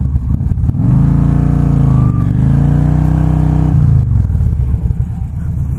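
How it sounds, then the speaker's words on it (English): A loud, close cruiser motorcycle engine roars at sustained high revs during a burnout for several seconds, its pitch wavering, then drops off as the throttle eases. "That little burnout I did, that sounds a little bit different than a sport bike."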